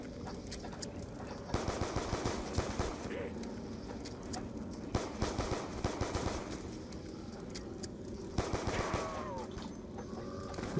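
Repeated bursts of video game shooter gunfire, mid-distance and fairly quiet, recurring in choppy volleys across the stretch amid busy game effects.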